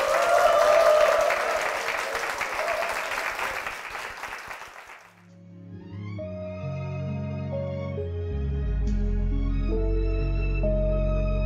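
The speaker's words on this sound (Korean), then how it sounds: "큰 박수 부탁드립니다." A church congregation applauds loudly and steadily for about five seconds, then the clapping fades out and sustained keyboard music begins, playing on alone.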